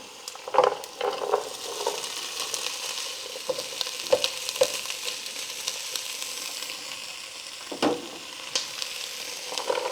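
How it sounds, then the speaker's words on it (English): Carrots sizzling in a soup pot over medium heat with onion already warming, a steady frying hiss broken by a few louder clatters and stirring sounds close by, with no talk. "next I'm going to add in my carrots, and this is 2 cups"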